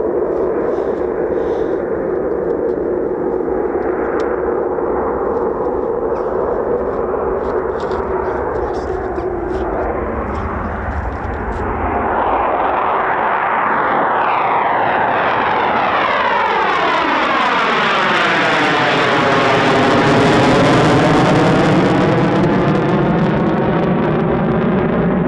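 A Eurofighter Typhoon jet taking off at RAF Coningsby: a loud, building engine roar that swells and sweeps in pitch as the fighter passes close overhead, then a long rumbling tail, with people talking.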